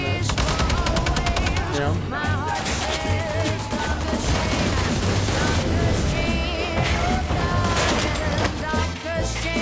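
Rapid bursts of heavy gunfire and crashing impacts from the Wolfenstein game trailer fill the whole stretch at high volume, with a voice talking over the loud, dense barrage.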